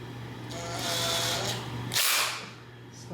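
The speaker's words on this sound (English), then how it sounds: "If you're using an impact like me, just get it a little snug, don't go too crazy." A cordless impact driver snugs the screws on a ceiling fan's mounting arm during an installation, giving two short, close bursts of whirring, the second sharper and louder, over a steady low background hum.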